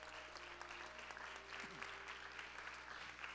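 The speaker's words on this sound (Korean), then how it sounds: "우리 좀 따뜻한 박수로 축복합시다" A church youth worship congregation claps warmly. The short, faint stretch of steady applause sits under a low, constant electrical hum in the hall.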